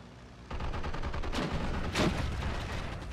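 Rapid 30 mm nose-cannon bursts from a G6U4 aircraft in the Steel Division 2 war game rattle out as a dense stream of gunfire, with two heavier booming surges partway through.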